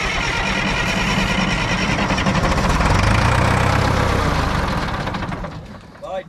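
An old loader that sat unused for 15 years cranks and runs, its engine loud and rough with a dense rattling knock, holding steady for several seconds before dropping off near the end.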